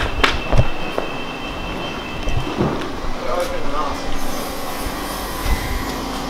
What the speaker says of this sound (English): Train comes in a couple minutes, and we don't want to miss it.